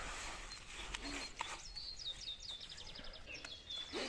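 Birdsong on the bank of the Southern Bug river near Vinnytsia: faint, repeated high chirps and short trilling phrases from small birds, heard at a distance over a quiet outdoor background.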